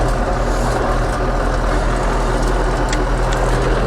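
A restyled YuMZ-6 tractor with a D-240 diesel engine runs at a steady, loud, low idle, close by, with no talking.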